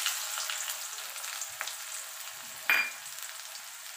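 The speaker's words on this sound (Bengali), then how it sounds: "পেঁয়াজটাকে একটু লাল লাল করে ভেজে নেব।" Chopped onions frying in a pan give a soft, steady hiss, with a brief sharper crackle near the end and no voices.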